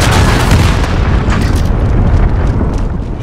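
Missile strike in Call of Duty: Modern Warfare multiplayer: a loud, sustained rumbling blast with dense low-end roar and crackling debris that slowly fades over a few seconds.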